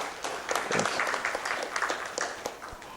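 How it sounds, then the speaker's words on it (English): Moderate round of applause from a summit audience welcoming a guest speaker at a housing finance expo, scattered claps heard at a distance for a few seconds. "Can we give him a round of applause, please?"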